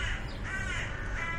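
A crow gives a few harsh, drawn-out caws, fairly close and clear over a low background hum.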